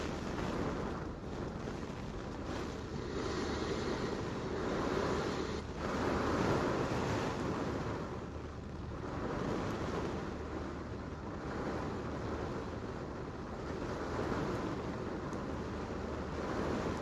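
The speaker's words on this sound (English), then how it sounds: "The wind actually just really picked up. Look at this. Big wind right now." Strong Hurricane Melissa winds roaring in Mandeville, Jamaica, a loud, steady rush that swells and eases in gusts, with heavy buffeting on the microphone.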